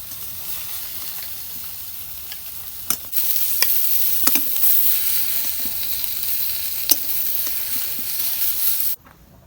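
A loud, even sizzle of pomfret fish frying in hot oil, punctuated by a few sharp clicks, cutting off abruptly near the end.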